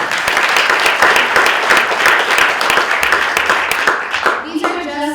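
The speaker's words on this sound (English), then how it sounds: "Let's give him a round of applause." Audience applause at a legislators' mayoral forum, sustained loud clapping from many hands filling the room, fading at the end as a voice begins.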